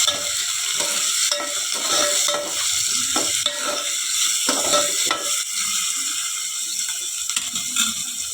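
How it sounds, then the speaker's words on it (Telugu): Onions, green chillies and curry leaves fry in hot oil, a crackling sizzle broken by repeated scraping and clattering stirs of a utensil against the pan, fairly close and loud, with no one speaking. "ఫస్ట్ ఆయిల్ వేసి దాంట్లో ఆనియన్స్, పచ్చిమిర్చి, కరివేపాకు వేసి"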